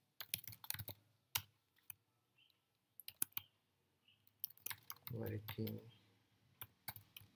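Quick clusters of sharp keyboard clicks come as code is typed on a computer keyboard, in irregular bursts with someone speaking briefly between them.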